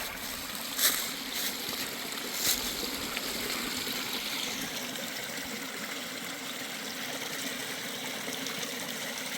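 Gentle stream water trickling and burbling along the Pinhoti Trail in a forest setting, a steady soft wash of flowing water with a couple of brief louder splashes early on, no voices.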